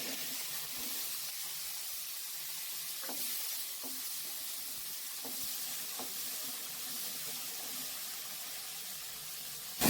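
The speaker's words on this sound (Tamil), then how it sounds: "முதல்ல சுண்டைக்காய் மட்டும் போட்டு கொஞ்சம் வதக்கி எடுத்துக்கலாங்கம்மா" Turkey berries sautéing in hot oil in a pan give off a steady bright sizzle and hiss, punctuated by occasional soft stirring taps, close up with no one talking.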